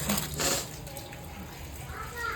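Tap water runs over fish bones being rinsed in a home kitchen, a steady splashing wash with a brief louder gush near the start, while a voice and other talk sound in the background.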